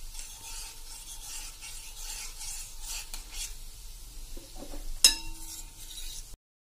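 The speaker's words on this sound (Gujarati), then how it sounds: "આ મેં અત્યારે ઘી મૂક્યું છે એટલે ઘી હું આ રીતે હલાવી રહી છું" Gulab jamun frying in ghee in a pan while being stirred, with a soft continuous sizzle, a gentle scraping stir, and a brief clink of the utensil near the end.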